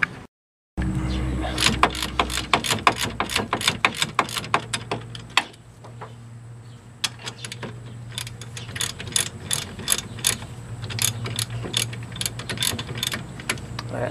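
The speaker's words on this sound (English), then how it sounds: "I'm going to try to take these two fasteners off the back without taking all this off" A hand ratchet loosens brake caliper fasteners behind a car strut, sounding as rapid close clicking bursts in quick runs, pausing briefly midway and then resuming with more scattered, uneven clicks.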